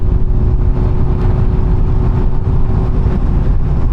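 A 2007 Honda Hornet 600 motorcycle engine revving high, a steady, loud, buzzing whine held close and alone, with no speech.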